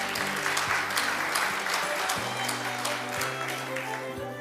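Big round of applause welcoming Dr. Kang at an international sports conference hall, dense steady clapping from the audience with a low hum beneath, holding evenly throughout.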